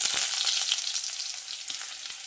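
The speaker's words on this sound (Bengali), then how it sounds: "তারপর ফোড়নের সঙ্গে কিছুক্ষণ ভেজে নিচ্ছি" Four cloves of crushed garlic and one crushed green chilli fry in hot oil with tempering spices, giving a bright, continuous, close sizzle with faint crackles and no talking.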